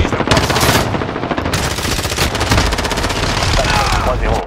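Rapid bursts of automatic gunfire and machine-gun fire from a modern warfare video game, loud and continuous, with overlapping shots and faint voices underneath.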